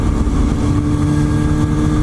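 Steady, loud engine drone of a sport motorcycle, a 2005 or 2006 Kawasaki ZX-6RR, on a ride around Huntsville, holding a constant roar with no clear revving.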